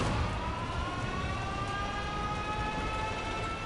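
Alarm siren in World of Tanks, a sustained wavering tone with layered harmonics drifting slowly downward over a constant noisy rumble, loud and unbroken throughout.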